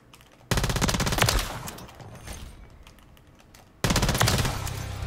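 Rapid automatic assault rifle fire in a first-person shooter, strafing while moving: two loud sustained bursts, one at the start and one near the end, with a quieter stretch of lingering shots and game noise between them.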